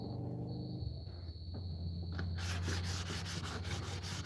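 A hand works 80-grit sandpaper across a wooden piece, giving a continuous close abrasive rubbing that turns harsher and brighter partway through in quick repeated strokes, with no talking.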